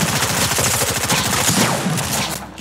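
Turret gunfire in the video game Fortnite, a loud, rapid stream of automatic shots rattling continuously and close before trailing off at the end.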